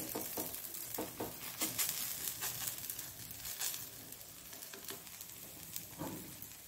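Small roti frying in a little oil on a pan, with a steady close sizzle and occasional crackles and scraping stirs, with no voices.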